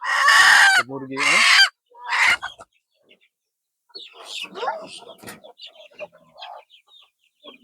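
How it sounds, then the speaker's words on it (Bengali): Desi chickens on a cattle and goat farm give a couple of loud, close drawn-out calls, then scattered softer clucks and chatter follow, with some human voice mixed in. "মুরগি।"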